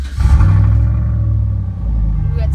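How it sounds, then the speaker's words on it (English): A new truck's engine cold-starts close by, a loud low rumble that catches at once and holds a deep, throaty idle, settling slightly before revving up again. "This cold start's gonna be loud."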